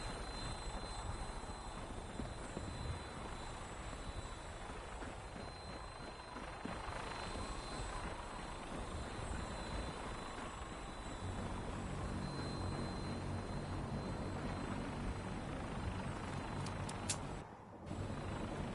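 A helicopter gunship from a video game flies continuously, a dense, loud rotor and engine roar that holds steady throughout, with a brief dip near the end.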